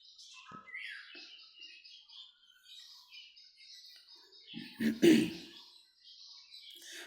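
Many caged birds at the Gariya bird market, including budgerigars, chirp and twitter steadily in repeated bright calls, with a brief low cough-like burst partway through.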